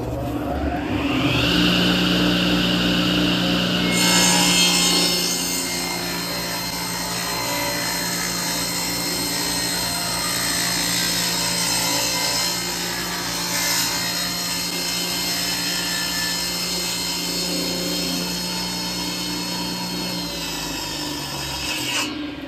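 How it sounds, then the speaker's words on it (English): An old table saw runs steadily through a first cut in wood, a loud continuous motor hum with a rasping blade whine sustained for about twenty seconds before winding down near the end. "We're gonna test our table saw. Here we go. Doing our first cut."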